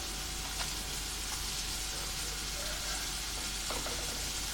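Chopped onion sizzles steadily in a hot pan for paneer tikka masala, a constant close frying hiss with a few faint stirring clicks and no voices.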